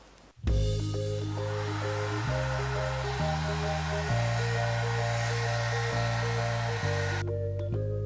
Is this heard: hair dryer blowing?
yes